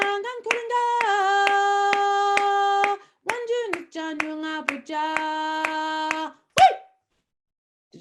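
An audience claps along to a sung melody, with regular claps marking the beat beneath the voice. It ends with a brief louder sound, then silence.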